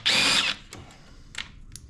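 A power tool runs on the bolts of a 2011 Ski-Doo 1200 TNT snowmobile during an oil and chain case oil change. One loud, whirring burst lasts about half a second, then two short, fainter bursts follow, close and without talk.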